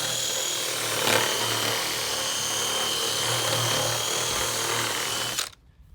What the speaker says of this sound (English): I'm drilling a hole for